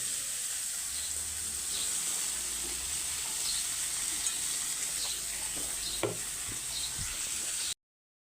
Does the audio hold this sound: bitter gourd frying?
yes